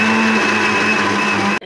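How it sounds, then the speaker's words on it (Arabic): A Moulinex blender purees bananas for a banana cake, giving a loud, steady motor whine held close for well over a second before it cuts off abruptly. "غادي نمزج شويه ثاني هذاك البنان، مكنبغيش نبرزتكم بالصوت ديال المولينكس"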